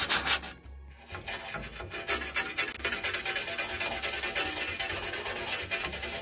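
A small wire brush scrubs rust off a Ford Model A gas tank in steady, rapid back-and-forth rasping strokes, close and continuous, after a brief pause near the start.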